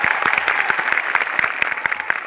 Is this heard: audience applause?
yes